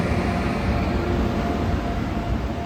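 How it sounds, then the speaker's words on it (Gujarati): A train passes on an elevated line in Haridwar, a continuous heavy rumble and roar that holds steady and loud throughout, with no voices. "ઉપર ટ્રેન જાય છે બીજી બાજુ."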